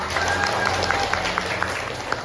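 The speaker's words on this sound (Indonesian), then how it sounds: "Tepuk tangan untuk kita semua." Students clapping together in a classroom after a game-based lesson, a fairly even run of claps from a small group with a few sharper individual hits standing out.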